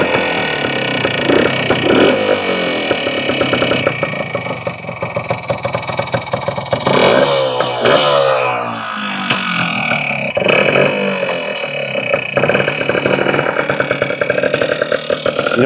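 A 1976 Yamaha TY175 trials motorcycle engine runs warmed up, a close, loud, steady mid-pitched putter with a few revs and swells throughout.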